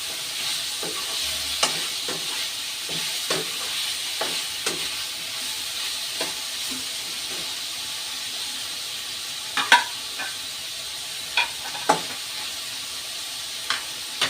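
Shredded chicken frying in a pan for Filipino chop suey, a steady soft sizzle and hiss with occasional light stirring clicks and scrapes, close and fairly quiet.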